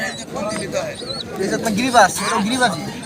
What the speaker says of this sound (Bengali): নিচের এগুলো কি কবুতর ভাইয়া